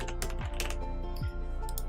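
Typing on a computer keyboard while entering a font name in Silhouette Studio: a brisk run of close key clicks over a steady background hum, with no one speaking.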